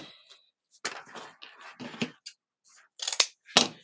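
Scissors snip the ends of deco mesh strips for a Christmas wreath, with several crisp close cuts and rustling in short bursts separated by brief silences.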